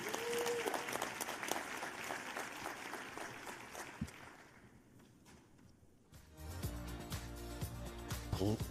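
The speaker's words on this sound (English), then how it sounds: "Let's give them a round of applause, everybody." Audience round of applause at a forum gathering, a fairly faint wash of clapping that thins out and fades midway, followed by a quieter stretch and then other room sounds and music-like tones near the end.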